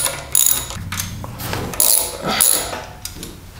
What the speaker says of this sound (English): next we're going to remove these two 10 millimeter bolts here.